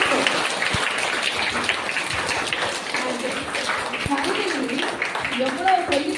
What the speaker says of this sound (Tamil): அப்பா அம்மாக்கெல்லாம் ஒரு கைத்தட்டி இல்லாமா?